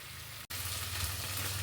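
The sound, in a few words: beef stew cooking on a gas stove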